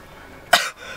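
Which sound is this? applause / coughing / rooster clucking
coughing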